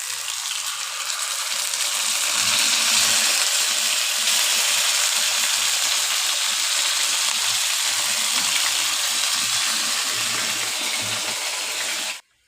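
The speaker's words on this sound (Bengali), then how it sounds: "নারকেল আর কাঁচা লঙ্কার পেস্টটা আমি দিয়ে দিয়েছি, এখন একটু দই দিয়ে দেবো।" Yogurt hits a pan of coconut and green chili paste and sizzles loudly and steadily with a hissing frying sound, continuous until it cuts off abruptly near the end.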